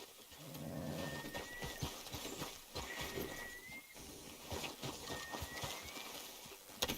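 Horse hooves clip-clop in a steady walking rhythm through the Red Dead Redemption 2 video game, faint beneath a dense bed of outdoor ambience and music.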